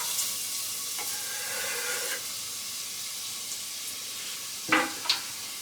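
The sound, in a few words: chopped onion frying in hot oil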